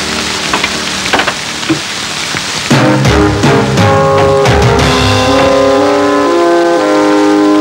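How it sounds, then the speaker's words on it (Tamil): Rain falls as a constant hiss and patter in a film scene, with swelling orchestral music rising over it partway through. "மழை பெய்யுது"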